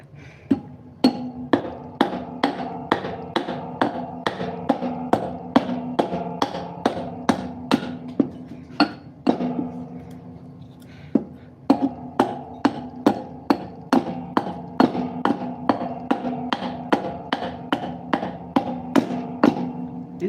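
A piece of hickory wood trimmed with sharp, evenly spaced chopping or tapping strikes, close and ringing, repeated steadily with a brief pause midway.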